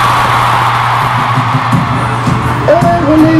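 A short stretch of loud, packed arena crowd noise at a concert in Kuala Lumpur, steady yelling and whooping with a sharp rising shout toward the end.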